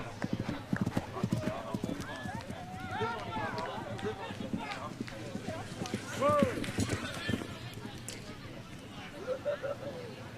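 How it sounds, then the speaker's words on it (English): Horse galloping cross-country at the Olympic eventing competition in Rio 2016, with Boyd Martin riding Blackfoot Mystery; steady rapid hoofbeats run throughout under commentary and crowd murmur, with a brief louder surge midway. "Tremendous gallop there"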